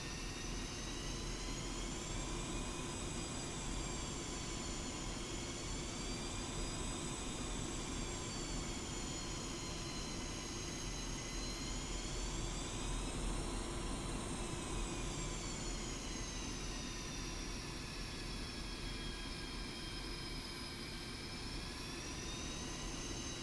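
A jet aircraft taxis in the DCS flight simulator game, giving a continuous, steady engine roar with a high whine that slowly wavers in pitch, alone and unbroken throughout.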